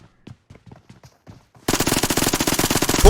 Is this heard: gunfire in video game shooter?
yes